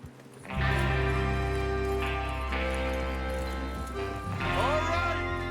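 Horses galloping in Red Dead Redemption 2 with clip-clopping hooves over a steady layered tonal background, with a whinny near the end.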